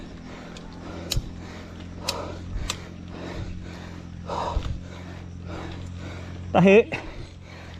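A bicycle climbing a steep 16% gradient toward Mt. Parawagan makes rhythmic mechanical clicking and ticking, with a louder rattle near the end, under a person's talk and heavy breathing.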